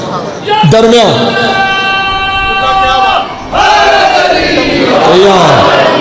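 A crowd at a Muharram religious gathering in Tarlai, Islamabad loudly chants slogans in unison, answering a lead voice in long sustained calls, close and forceful, with a brief gap between bursts.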